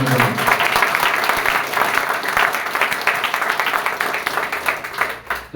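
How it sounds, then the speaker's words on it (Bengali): Seminar audience gives a sustained round of applause, a thick, even wash of many hands clapping close and loud throughout, with no break before it tails off at the very end. "সর্বোচ্চ একটা করতালি আশা করছি।"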